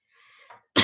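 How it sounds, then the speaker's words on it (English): A single short, loud cough from a person hosting a live angel card reading session, bursting out abruptly after a stretch of faint background noise. "I have a bit of a cough,"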